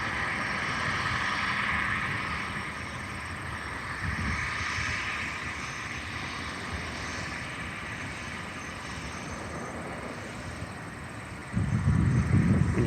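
A jet airliner on its takeoff roll at Albany International Airport, a steady broad engine roar heard from a distance and holding level, with a louder low rumble swelling near the end.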